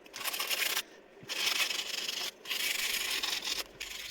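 Model locomotive parts for a 3.5-inch gauge Invicta rebuild are sanded by hand before painting, giving steady raspy rubbing strokes in long bursts broken by short pauses, close and fairly loud with no talk.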